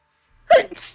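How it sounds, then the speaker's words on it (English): A single sudden sneeze bursts out after near silence, loud and close, trailing off quickly. "Trying not to sneeze."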